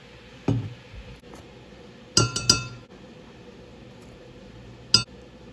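A spoon clinks against a glass bowl while hoisin sauce and peanut butter are mixed: a few sharp, bright taps in two small clusters with quiet stirring between.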